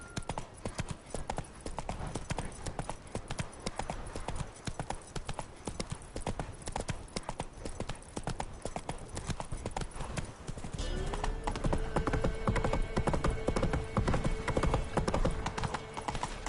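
Roach, Geralt's horse in the video game The Witcher 3, gallops with rapid, evenly driving hoofbeats that stay close and continuous, while a low sustained musical tone joins in during the second half.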